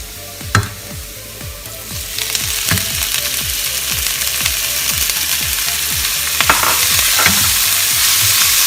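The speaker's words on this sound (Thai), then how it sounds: "ตอนนี้เราก็ใส่น้ำมันลงไปก่อนค่ะ เราจะใส่ขิงแล้วนะคะ" Ginger stir-frying in hot oil in a pan for Chinese-style pork with ginger, a steady sizzle with regular scraping strokes of the spatula, close and continuous, with no talking.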